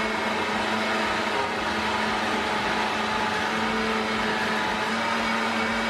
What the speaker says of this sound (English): think I actually got the spatula in the blender.